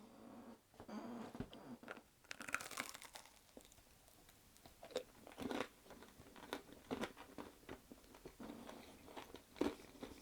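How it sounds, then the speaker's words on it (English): Biting into and chewing a homemade coconut lemon tassie, a small tart made with coconut, egg whites and sugar, heard as close, soft crunches and moist chewing bursts at irregular intervals with no talking. "So I'll have a taste of this one."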